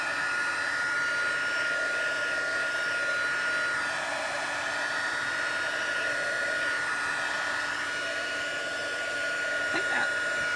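A heat tool blows hot air to dry shimmer paint and alcohol ink on card, a steady loud whirring hum that runs unbroken from start to finish at close range.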